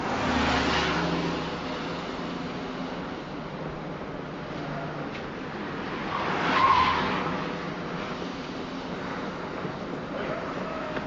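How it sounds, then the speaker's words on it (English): A car skids through the 1971 French Connection chase, engine roar running throughout with tire squeal swelling to a louder peak midway. "William Friedkin made the most complex car chase scene of all time"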